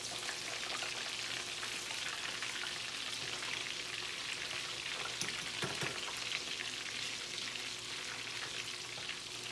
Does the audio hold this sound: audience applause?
no